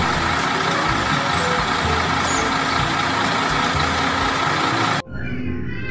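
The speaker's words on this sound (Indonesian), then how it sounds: "yang ini mobil molen." A cement mixer truck's engine rumbles loud and steady for about five seconds, then cuts off abruptly into quiet.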